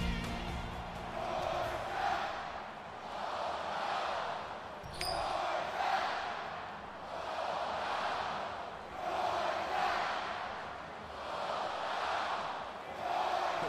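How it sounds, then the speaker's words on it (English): A stadium crowd at a college football game between Tennessee and Georgia roars steadily before kickoff, a loud, sustained rumble of voices that swells and ebbs in broad waves. "you can feel the thunder in the crowd as they await the start of this game"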